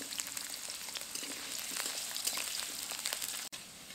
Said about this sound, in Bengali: আলুগুলোকে হালকা করে ভেজে নিয়েছি